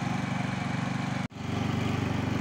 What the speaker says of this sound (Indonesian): Bunyinya memang tidak sekasar Vespa ya, tapi sekilas memang tidak terlihat seperti mesin Matic.